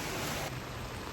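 Heavy rain falling during a trip to Mookambika, a loud, dense, even wash of noise from close by with no distinct drops.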